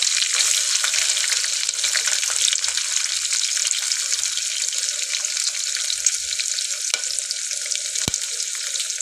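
Chillies and onions frying in a pan give a continuous close hissing sizzle with faint stirring knocks and a couple of sharp clicks, no voices.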